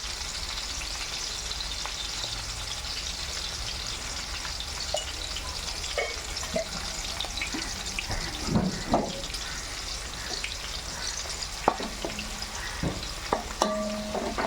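Turmeric being stirred into pappu pongal as it cooks, a steady broadband sizzle and bubbling with scattered scrapes and clinks of a spoon against the pot, no talking.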